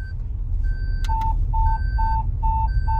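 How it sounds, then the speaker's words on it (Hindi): Car-mounted siren device on a Brezza 2024 emitting a repeating electronic pattern of short, steady-pitched beeps in an even rhythm, close and clear over a low engine and road rumble. "तो इसमें कुछ साइरन्स हैं,"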